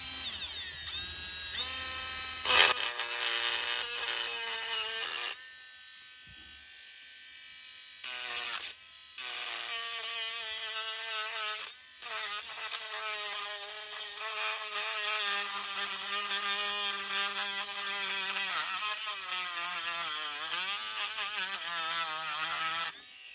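A Ginour 3.7V rechargeable mini rotary pen tool grinds rust off a surface, giving a sustained high-pitched electric whine that drops out briefly twice before resuming, loud and close with no talk.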